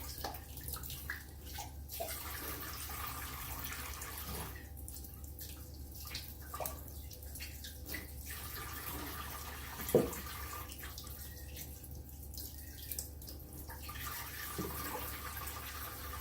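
Tap water running and splashing as canning jars are rinsed in a kitchen sink, a steady wash broken by a few brief pauses and clinks.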